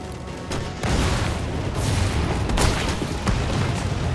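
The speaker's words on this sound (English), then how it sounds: "How many rockets has he got?" Rocket explosions in a parody action fight, a dense barrage of loud booms and blasts rolling continuously with several sharper bursts, no talk.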